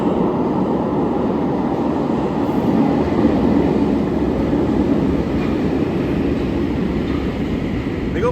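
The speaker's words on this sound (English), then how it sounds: "the metro going one way was basically approaching as we were going downstairs" A metro train rumbles steadily through an underground station in Romania, a loud, continuous low roar of rolling wheels and motors that stays close and even throughout, with no talk.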